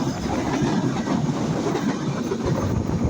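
A train rolls past close by at Majhgram railway station in Bangladesh, a loud continuous rumble with rattling wheels and clatter that holds steady throughout.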